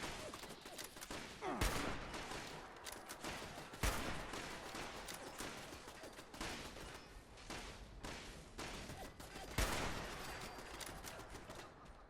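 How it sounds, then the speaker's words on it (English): An automated turret in Fallout 76 fires bursts of gunfire, rattling shots mixed with a few heavier thumps, all at a faint level. "that's why you at least put one turret down and see it was at a level that it could fire in 360 degrees"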